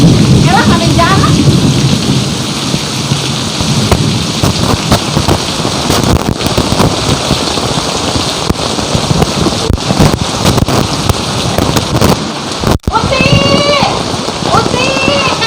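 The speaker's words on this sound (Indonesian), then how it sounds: "Aduh, karena hujan." Heavy rain pours steadily on a surface with rumbling thunder throughout, loud and close, while faint voices talk in the background.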